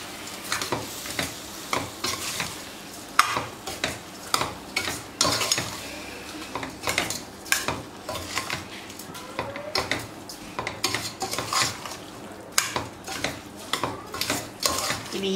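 A spoon stirs a vegetable biryani mixture with washed rice in a metal pot. Repeated scraping clinks and soft sizzles come in an uneven rhythm, close up, with no speech.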